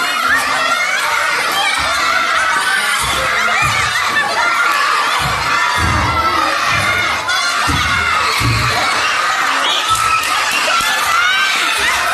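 A crowd of children shouts and cheers loudly and continuously during a party game at a christening and first birthday celebration, with excited voices and laughter throughout.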